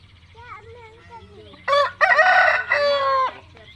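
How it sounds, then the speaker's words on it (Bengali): Native and poultry chickens fighting, with a rooster crowing loudly and close in a couple of long harmonic calls after quieter clucking and chirps, over a low rumbling background. "পোলট্রি ভার্সেস দেশি বিগ লড়াই হচ্ছে।"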